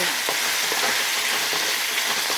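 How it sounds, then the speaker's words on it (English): Browned chicken with lemongrass, onions, green pepper and garlic caramelizing over high heat, a loud steady sizzle with faint intermittent stirring clicks close by. "I just put the lemongrass in"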